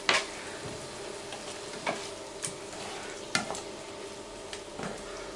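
Chives cooking in a lightly oiled pan, a soft steady sizzle punctuated by several sharp scraping and tapping stirs at irregular intervals, fairly quiet and without talk.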